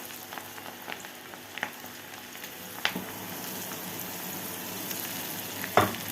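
Onions frying undisturbed in hot oil for Egyptian koshari, giving a constant dense crackling sizzle with occasional sharp pops and a couple of louder clatters, no voices.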